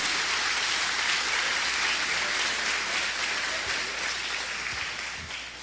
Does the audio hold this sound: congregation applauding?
yes